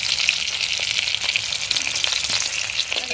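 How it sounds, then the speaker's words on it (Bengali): Fish fries in hot oil until red and crisp, giving a steady, close, dense sizzle and crackle throughout with no talking. "মাছটা আমার সুন্দর করে লাল লাল করে ভাজা হয়ে গেছে"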